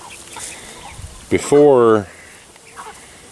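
Chickens in a sick pen, birds recovering from an illness with eye discharge, give a short loud squawking call up close, with scattered soft clucks around it and someone speaking briefly.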